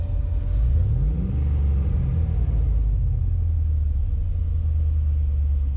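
A truck engine rises briefly in a rev, then settles back into a loud, steady low rumble at idle, heard close and alone.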